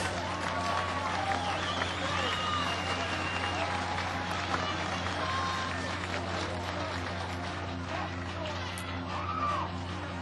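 A crowd at the 2008 AVP Glendale beach volleyball event applauds between points, a steady wash of clapping under a commentator's voice, with a low steady hum running beneath.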